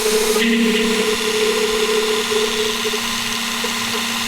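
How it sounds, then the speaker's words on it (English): A power tool notches steel tubes down to 1 3/4 inch for a custom offroad bread van build, a steady close whine with a constant tonal hum, starting loud and holding through the clip. "So we're notching these down to 1 3/4 inch."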